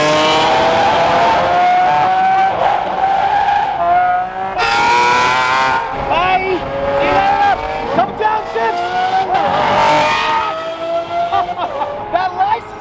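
Car with a new Gintani tune revving hard and downshifting, engine pitch sweeping up and down repeatedly with sharp blips, loud and close, with tire noise and a voice talking over it.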